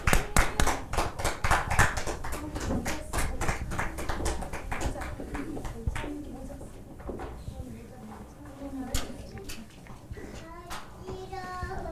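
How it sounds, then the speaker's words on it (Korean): A church congregation at a Christmas thanksgiving service applauds as children come forward to sing, dense clapping strongest at first and thinning out, with chatter and movement in the hall. "우리 격려의 박수 해주도록 하겠습니다"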